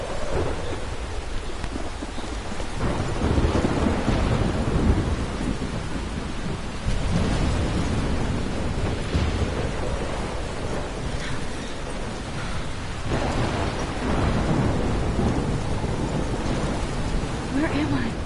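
A thunderstorm in the Life is Strange video game brings heavy, steady rain and repeated low rolls of thunder that swell and fade, with faint voices now and then.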